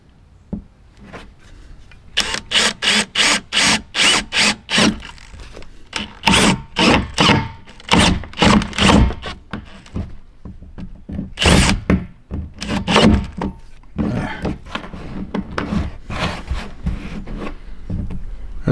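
A drill whirs in short repeated bursts against a hard plastic RV gray water tank, stopping and starting in an uneven rhythm, close and loud.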